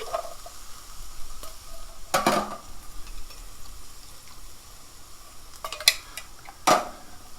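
A spoon stirs three cans of tomatoes and beans into cooked ground beef in a pot for chili, giving a few scattered metal clanks and scrapes over a faint background hiss, with no talking.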